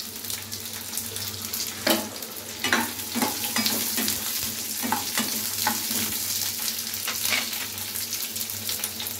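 Ivy gourd frying in a little oil in a kadai, a steady loud sizzle with occasional stirring clatters and scrapes against the pan.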